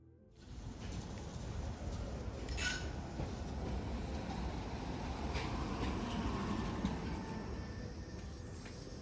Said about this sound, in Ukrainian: я вам покажу безпосередньо трамвай у Львові